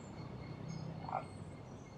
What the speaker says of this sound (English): I've got the frogs talking to me.